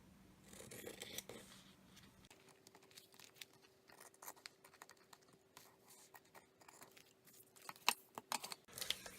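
Paper cut for a handmade travelers notebook insert: close, quiet scissor snips in an irregular series, with soft paper rustles and no talk.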